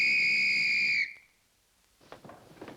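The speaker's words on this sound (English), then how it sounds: "some guy comes around blowing a whistle" A sharp, loud, sustained whistle blast lasting about a second, then cut off into near silence, followed by faint scattered clatter.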